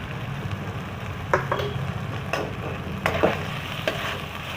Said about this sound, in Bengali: কাঁচা গন্ধটা যাবার পর্যন্ত এতে ভাজতে হবে।